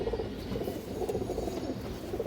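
Domestic pigeons in a pen, low soft cooing that runs continuously and overlaps, close and moderately quiet, with no talk.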